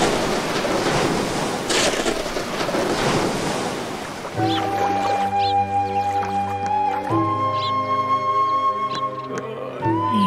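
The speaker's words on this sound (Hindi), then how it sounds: "इस दरियाई लहरों से मुझे बचा लो।" Sea waves crashing and surging with heavy wind noise for about four seconds, then cut off as a steady tonal hum with layered harmonics takes over for the rest.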